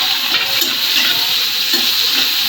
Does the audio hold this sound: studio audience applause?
no